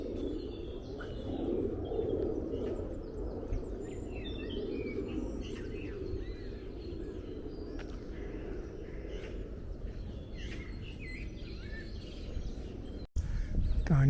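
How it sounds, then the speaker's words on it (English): Birds chirp and tweet intermittently in a park in Bermondsey, London, moderately close over a steady low hum of city traffic, with a sharp knock near the end. "Bermondsey Birdsong."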